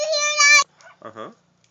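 Puppy making a high, drawn-out whine, then a few short yips and whimpers, close by and brief, with children's voices around it.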